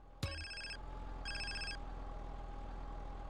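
A phone rings in the video game GTA San Andreas, two bursts of electronic ringing after a sharp click, over a low engine hum.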